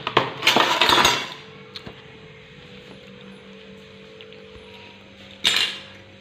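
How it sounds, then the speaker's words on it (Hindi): Steel dishes and utensils being stacked away in a home kitchen give a burst of bright clinking and clattering, close and fairly loud. A quiet stretch with faint scattered clinks follows, then a final clatter. "देखो बर्तन जमा गई थी ना, वही जमा रही हूँ।"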